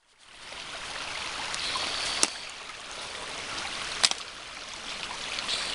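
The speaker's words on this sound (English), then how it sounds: "We got some running water coming over this dam." Running water pours over a small dam, a steady rushing wash at moderate level, punctuated by two sharp clicks partway through, with no one speaking.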